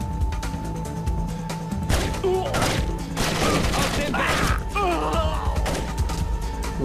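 Video game gunfire in Splinter Cell, rapid bursts of shots and impacts layered over a constant game soundtrack, with someone speaking German over the action.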